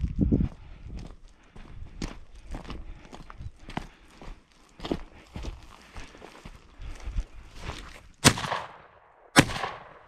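Footsteps and rustling movement outdoors while hunting thrushes with a small .32 calibre gun, followed by two sharp, loud gunshots near the end, spaced about a second apart.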